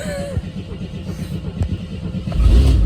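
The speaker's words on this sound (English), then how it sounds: "That's a little easy running 6-banger in here anyway." A classic AMC AMX with a six-cylinder engine idling and running easily, a steady low mid-range rumble that swells louder near the end as it revs, with some voice faintly mixed in.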